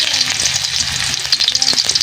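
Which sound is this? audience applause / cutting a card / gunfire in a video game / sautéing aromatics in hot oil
sautéing aromatics in hot oil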